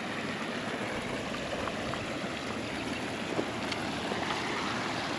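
River water flowing steadily near historic hot springs in Virginia, a broad continuous rushing wash with no voices, fairly close and even in level throughout.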